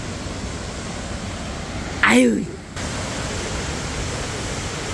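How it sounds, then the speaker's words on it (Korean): Cheonjiyeon waterfall on Jeju Island gives a constant loud broadband roar throughout, briefly interrupted by a person's short exclamation partway through. "천지연 폭포에 왔습니다."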